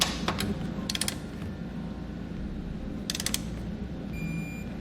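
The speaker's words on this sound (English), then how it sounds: "Now we'll torque all of our hardware to the specifications in our instructions." Torque wrench tightening hardware while mounting an EcoHitch Stealth trailer hitch receiver on a 2017 Tesla: a few brief ratcheting clicks in separate bursts over a steady low background hum, no talking.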